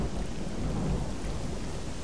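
Steady rain and low thunder rumble in STALKER GAMMA, a dense, continuous wash of loud noise with no pauses and no voices.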